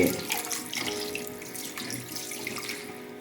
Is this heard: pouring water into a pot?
yes